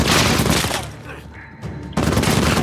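Light machine gun fire in the game Uncharted 4 bursts loud and dense at the start, drops to quieter combat noise midway, then resumes as heavy sustained fire near the end.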